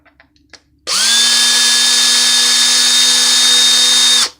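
A Craftsman power drill spins up sharply and runs at a steady high-pitched whine for about three seconds before stopping, loud and close.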